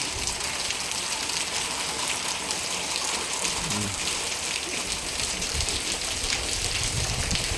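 Steady hiss of rain falling and pattering on surfaces nearby, an even wash of noise with no voices.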